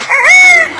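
A talking bird mimics a rooster's crow with one close, loud, drawn-out rising-then-falling call lasting under a second.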